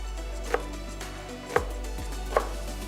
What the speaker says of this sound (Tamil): இதில் இருக்கிற காம்பு எடுத்துட்டு மெலிசா நறுக்குங்க.